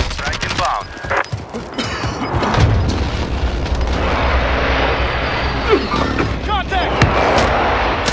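Airstrike explosions boom in a military game, heavy continuous blasts and rumbling gunfire filling the scene with dense, loud bursts, sharper cracks near the end, and voices heard between.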